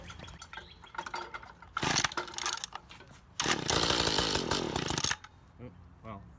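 Mantis tiller small engine being pull-started with the choke out, a few rough cranking bursts and a brief sputter that fails to catch, with a voice nearby.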